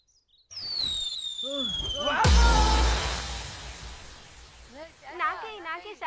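In a Telugu film comedy scene, a whistling rocket squeals rising, then a loud firecracker blast with crackling that fades, while people shout and talk around it.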